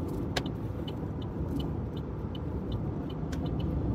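Car driving along a road, with a steady engine and road-noise rumble filling the whole stretch and a few faint ticks and clicks from inside the cabin.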